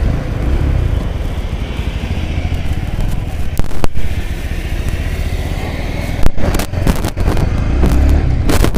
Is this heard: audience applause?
no